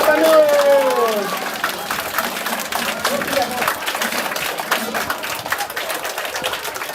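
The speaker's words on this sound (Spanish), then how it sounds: "Y un fuerte aplauso para ti y tío" A crowd claps in dense, steady applause that goes on for several seconds, with a brief voice at the start.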